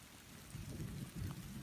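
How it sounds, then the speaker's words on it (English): Steady rain falling outside during a stormy day, a soft continuous patter and wash heard at low level with no talk. "If you can't tell, it has started raining."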